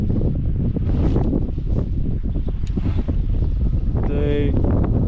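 Strong, steady wind roars and buffets the microphone outdoors on the water during a fishing trip, loud and continuous for the whole stretch, with a brief higher whine near the end.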